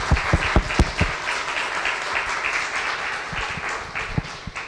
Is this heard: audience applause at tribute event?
yes